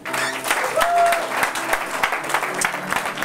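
Church congregation clapping in acclaim of the Lord, dense continuous applause filling the room with crowd noise and voices mixed in, steady throughout.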